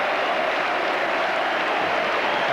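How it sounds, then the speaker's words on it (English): Football fans at a Wimbledon FC match against Crystal Palace applaud a substituted player, a dense, even wash of clapping from a distant stadium crowd lasting a few seconds. "The Wimbledon fans, though, giving him a bit of applause as well."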